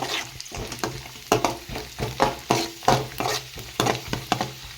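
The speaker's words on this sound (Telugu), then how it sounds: "బాగా ఫ్రై అయిపోతున్నాయి కిస్మిస్ చాలా లావుగా వచ్చేసాయి" Raisins fry in a pan while being stirred for a flattened-rice payasam, giving a steady sizzle broken by rhythmic scraping and stirring strokes, close and fairly loud.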